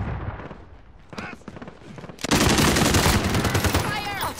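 Gunfire in the Warzone video game starts with scattered shots, then breaks into loud, sustained automatic bursts that fill the last half, heard close with little speech.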